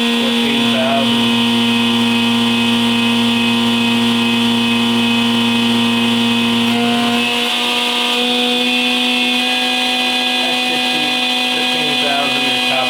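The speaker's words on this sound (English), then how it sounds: "So as you can see, the machine, the ball screws sound good, the spindle sounds excellent." Hardinge DT-480P3 CNC drilling and tapping machine spindle spinning at high RPM, around 12,000 to 15,000, giving a steady loud whine with stacked tones that shift partway through as speed changes.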